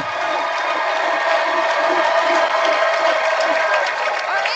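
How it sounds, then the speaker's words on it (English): A studio comedy talk-show audience applauds and cheers with loud, steady clapping and whoops across the whole stretch, with no pause. "it's time to hear from the crowd"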